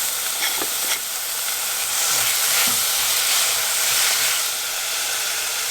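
Onions, ginger, garlic, chilies and tomatoes fry in a pan for an urad dal curry, giving a steady, close sizzle with occasional stirring scrapes throughout and no talk.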